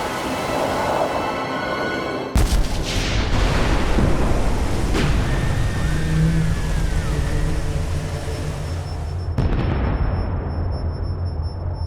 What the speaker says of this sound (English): the torpedo met its mark